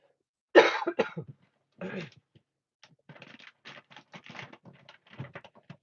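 A loud, harsh cough rings out up close, then another shorter one, followed by a run of soft, rapid tapping.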